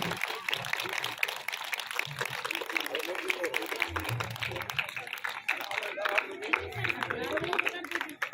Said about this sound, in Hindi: दमदार तालियां दोस्तों, दमदार तालियां